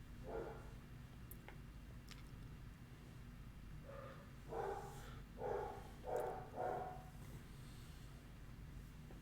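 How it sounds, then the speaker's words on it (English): A dog barks indoors, a few soft yips and then a short run of closer barks. The barking stays fairly faint against a quiet room background. "Stop barking."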